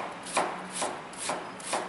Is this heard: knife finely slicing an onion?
yes